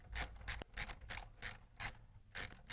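A ratchet socket loosens the battery hold-down bolt on a Kia Sorento, with a series of quick, close clicking bursts in a stop-start rhythm, some strokes longer than others, no talking.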